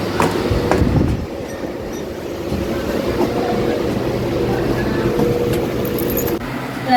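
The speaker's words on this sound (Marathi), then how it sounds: "आणि आता डोंबिवली ट्रेन पकडते मी." A Mumbai local train bound for Dombivli rumbles steadily up close with a loud, continuous low roar and faint rail squeals, while a voice murmurs in the background.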